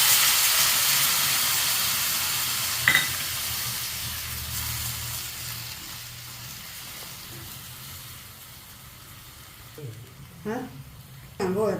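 A loud hiss of steam as water is poured into a hot pan of frying okra, fading gradually, followed by a few short clanks and a brief voice near the end.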